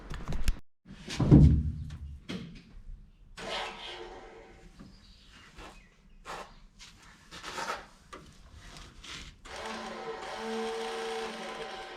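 A small electric motor from a 1946 Chevrolet truck is switched on in cold weather after some thumps and handling noises, then runs with a steady, fairly quiet hum for the last few seconds.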